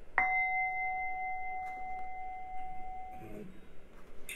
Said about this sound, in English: I'm going to ring the bell, all right, in just a bit.